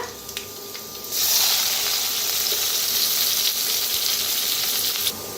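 Asafoetida, finely chopped onion and curry leaves hit hot oil and burst into a loud, steady sizzle that starts abruptly after a quieter moment and hisses on evenly, close and alone with no talk.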